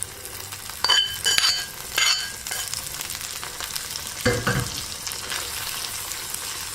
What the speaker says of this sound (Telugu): దీనిలో వేయించుకున్న జీడిపప్పు, కిస్మిస్ కూడా వేసి కలుపుకోవాలి.